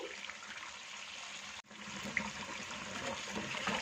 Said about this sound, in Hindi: इसलिए 1/4 कप इसमें पानी शामिल करेंगे